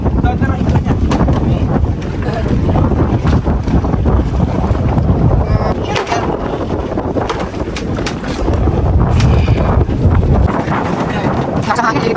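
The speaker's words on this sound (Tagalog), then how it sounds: "Ang lakas ang hangin." Strong wind roars and buffets the microphone continuously, a loud low rumble with gusts, over what sounds like a boat on open water.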